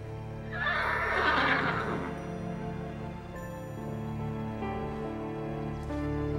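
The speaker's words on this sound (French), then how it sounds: "Oh, mon petit Comanche, tu es le plus beau de tous les chevaux de la planète." A horse lets out one loud close whinny that trails off, followed by a slow rhythm of hooves clip-clopping, with no talking.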